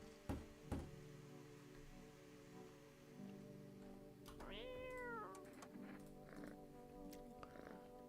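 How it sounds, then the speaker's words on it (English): A cat meows in the horror game No, I'm Not Human, a single clear, drawn-out call midway through, set against a faint steady patter of rain and a couple of soft knocks. "You gotta show some love to the cat."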